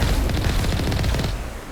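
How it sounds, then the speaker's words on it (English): Rapid missile explosions and gunfire from the video game Mass Effect, a loud burst of booming, rattling impacts in quick succession that ends abruptly and leaves a rumbling tail. "Whoa, he had missiles."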